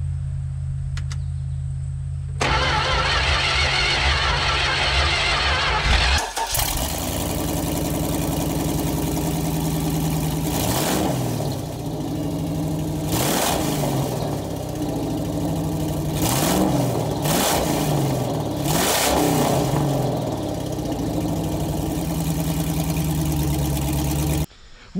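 A 1972 Plymouth Satellite rat rod engine cranks and fires up on its first startup after installation, then settles into a loud, steady idle broken by several sharp revving bursts, with no talking.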